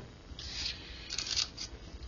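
Scissors snipping through craft material for handmade cards, two short bursts of close, crisp cutting strokes, quiet and alone.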